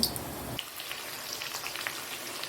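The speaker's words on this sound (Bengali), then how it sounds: "তেলটা গরম হয়ে গেছে এখানে আলুটা আগে ভেজে নেব" Potatoes dropped into hot oil, a quiet close crackling sizzle with scattered pops that settles into a steady soft fry.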